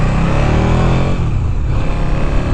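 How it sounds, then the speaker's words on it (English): A 2015 KTM 1290 Super Duke R on its stock exhaust rumbles loud and close, a steady deep engine drone with dense low harmonics, easing slightly midway as the revs shift. "Oh, the sound from this exhaust is nice."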